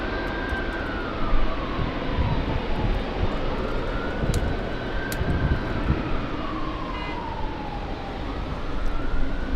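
An Emirates airliner, likely a Boeing 777, at LAX gives a loud, steady jet engine roar with a rising and falling whine that holds through the whole stretch, with no voices over it.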